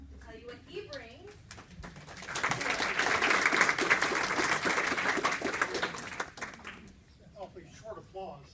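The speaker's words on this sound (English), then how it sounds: "Awfully short applause." Brief audience applause in a hospital heart-health dinner class, a burst of clapping rising for a few seconds then fading, with talk before and after.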